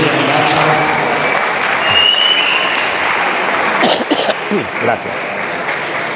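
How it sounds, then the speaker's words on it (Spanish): Audience applause fills a lecture hall at an academic talk on global warming, steady and dense across the room, then tapers into scattered claps as someone speaks briefly over it. "Le damos un aplauso nuevamente."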